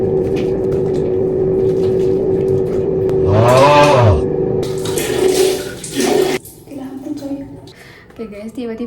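Tap water runs while a face is washed during a night skincare routine, a steady wash of water sound that swells and then cuts off, with a voice speaking over it.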